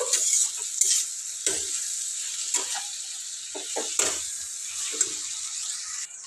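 Bitter gourd curry frying in a pan, a bright steady sizzle interrupted by scrapes and knocks as a spoon stirs it, close and fairly loud, no speech.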